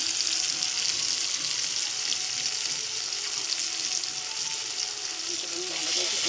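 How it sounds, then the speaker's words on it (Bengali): Spice paste of ground cumin, ginger and green chilli with salt and turmeric frying in a pan for pointed gourd curry, a loud continuous sizzle with faint scraping of the spatula throughout. "আমি ভালো করে একটু কষিয়ে নিই।"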